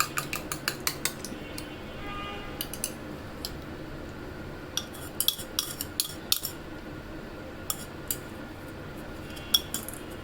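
A utensil beats a pudding mixture by hand in a bowl, giving quiet, irregular clinks and taps against the dish over a soft background.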